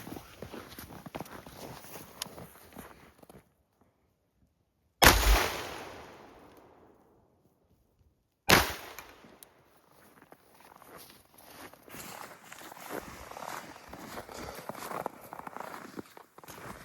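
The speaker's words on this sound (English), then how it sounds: "This thing just doesn't want to die. Shoot it again." Two loud gunshots fired at a budget red dot optic during a torture test, each a sharp crack with a ringing decay, separated by a few seconds amid outdoor shuffling and rustling.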